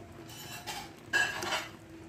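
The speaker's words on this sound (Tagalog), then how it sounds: "Ihalo na natin yung glutinous rice." Glutinous rice being stirred into latik in a pan for biko, with soft scraping and a couple of clinks from the spoon against the pan, close and quiet.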